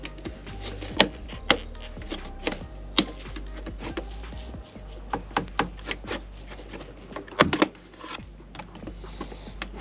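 Plastic clips snap and scrape as a car door panel is pried off, a series of sharp cracks and pops amid steady rubbing and creaking, close and irregular.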